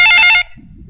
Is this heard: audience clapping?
no